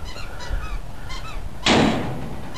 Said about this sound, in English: In case you hear a squeaking sound, that's my dog playing with her squeaky toy.